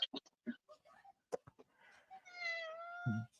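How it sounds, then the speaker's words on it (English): A single drawn-out cat meow, close and fairly clear, rising then falling, after a few scattered small knocks and rustles. "That was my cat"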